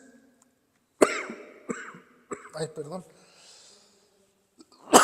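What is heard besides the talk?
coughing fit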